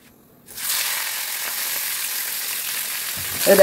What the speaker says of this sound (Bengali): আমার আগে মাছ ভাজাটা করব